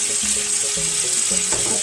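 Saffron and spices being stirred into a pan of paella, with a steady close sizzle of frying running throughout and faint scraping of the spoon across the pan.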